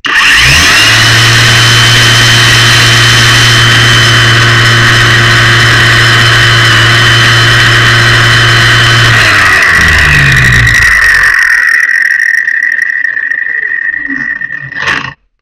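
A LUDYVI LB130 cordless angle grinder runs at its third speed setting with a loud, steady, high-pitched whine for about eleven seconds, then spins down after release and fades to silence.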